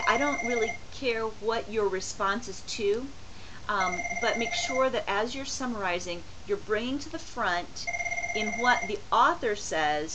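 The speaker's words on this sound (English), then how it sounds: "Excuse my phone for a moment." A phone rings in repeated tonal bursts under a person lecturing continuously, the ringing recurring several times and sitting just below the voice.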